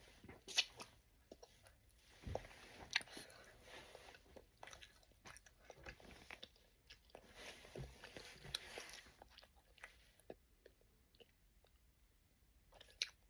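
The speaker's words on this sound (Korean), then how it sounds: "꿀을 이렇게 빨 수가 있네요." Honey is sucked and eaten up close, with soft wet smacks, slurps and chewing clicks arriving in irregular bursts against a quiet background.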